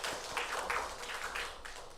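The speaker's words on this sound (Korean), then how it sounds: "박수 한번 드릴까요?" A church congregation applauding during the Sunday service, a soft, steady patter of many hands clapping from a distance with no voices heard.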